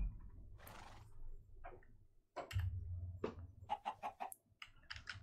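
Chickens clucking on a farm in the Minecraft video game, with several soft, short game clucks and clicks scattered over low background hum, fairly quiet and without talking.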